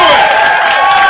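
Stand-up comedy audience clapping and cheering for a comedian, a dense steady wash of applause with whoops, briefly heard and loud throughout.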